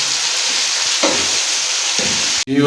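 Shredded cabbage stir-fried in a hot pan for vegetable Chinese rice gives a constant loud sizzle, broken by a few spatula scrapes and a sharp clatter near the end.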